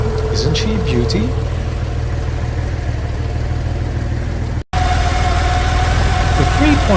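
A Porsche 911 Carrera Targa with a 3.2-litre flat-six engine idles steadily nearby, a low even rumble running under a voice, with a brief dropout partway through.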